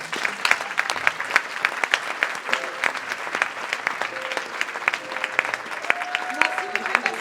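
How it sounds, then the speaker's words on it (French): Audience applause at a closing ceremony in 2025, steady dense clapping from a crowd throughout, with a few voices rising faintly above it. "je voudrais qu'on envoie beaucoup de courage à l'un d'eux, qui compte beaucoup pour moi, en applaudissant"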